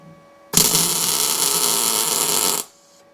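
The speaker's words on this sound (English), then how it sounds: "get a good strong tack weld," A MIG welder from an ArcCaptain MiG-200 setup lays a solid tack weld on painted steel, giving a steady, loud, crackling buzz that holds for about two seconds and then stops abruptly, with no talk over it.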